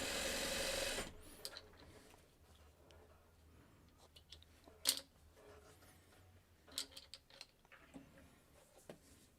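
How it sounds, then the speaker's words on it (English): A sewing machine stitching a quarter-inch seam gives a loud, brief whirring run at the start, then trails off into faint scattered ticks and clicks. "Okay, so I'm just sewing my 1/4 inch away."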